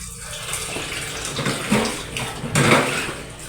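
Tap water running steadily into a sink while dishes are washed up, a close continuous gushing rush with slight splashy swells and no talk over it.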